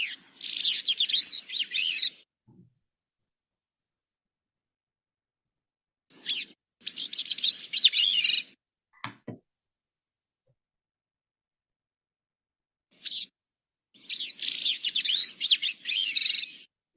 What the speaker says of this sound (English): So here's the gray-cheeked thrush song.